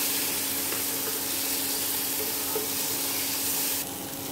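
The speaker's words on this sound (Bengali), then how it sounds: "একদম ভাজা ভাজা হয়ে গেছে, তেলটা ছেড়ে দিয়েছে" Pointed gourd fries in oil until well browned, producing a continuous, even, close sizzle with a faint steady hum and no talking.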